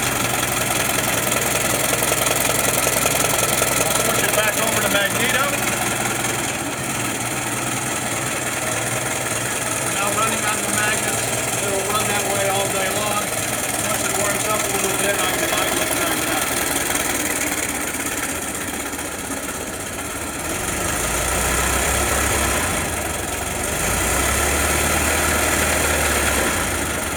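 A 1915 Ford Model T light patrol vehicle idles just after startup, a steady close-up engine rumble that runs throughout with slight dips in level and no voices.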